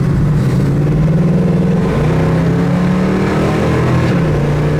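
A 1972 Ford Mustang convertible's engine pulls loud and steady, its tone rising under acceleration, then dropping and climbing again as the transmission shifts gear partway through, with no talk over it.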